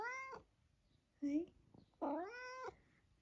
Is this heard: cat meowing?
yes